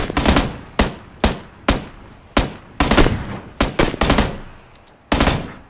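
Loud, close gunfire in PlayerUnknown's Battlegrounds, with about ten sharp single shots in an uneven rhythm and short gaps between them.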